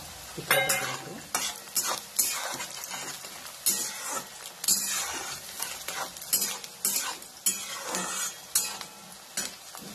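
Chopped onion frying in a pan for Maharashtrian poha, with repeated bursts of stirring and spoon scrapes over a steady sizzle, close and fairly loud.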